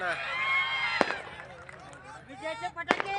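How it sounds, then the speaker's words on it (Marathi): Two sharp firecracker bangs ring out about two seconds apart amid excited crowd voices and talking nearby at a political rally celebrating victory. "विजयाचे फटाके"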